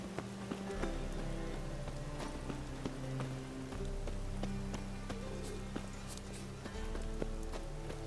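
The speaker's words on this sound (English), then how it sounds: "Rain again." Steady rain pours down in The Witcher 3 video game, a dense continuous patter of drops on surfaces with occasional sharper splashes and a low ambient rumble underneath, with no talk.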